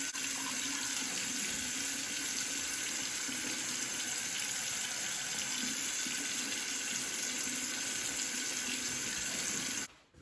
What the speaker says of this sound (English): rinse hair thoroughly with warm water until the water runs clear